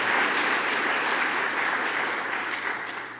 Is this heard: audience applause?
yes